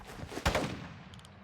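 A sharp gunshot crack in Call of Duty: Warzone DMZ in the middle of the clip with a short echoing tail, followed by faint clicks.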